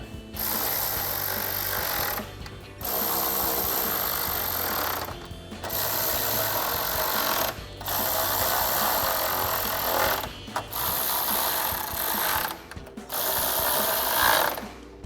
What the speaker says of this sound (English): And then we'll tighten those down with our 10mm socket.